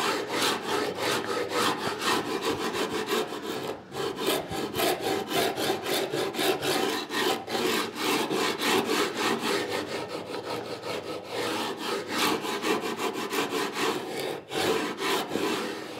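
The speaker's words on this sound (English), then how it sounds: "This is a Shinto rasp made in Japan. They have a rough side and a finer side, and they really remove material in a hurry." A Japanese Shinto rasp files wood in fast, repeated rough strokes, a steady scraping rhythm heard up close and continuous throughout.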